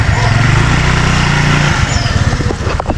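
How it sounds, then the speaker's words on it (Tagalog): Tilo's motorcycle runs nearby with a loud, buzzy engine drone that surges and then breaks into a choppier putter, with people talking over it. "Ginamit na yung motor ni Tilo."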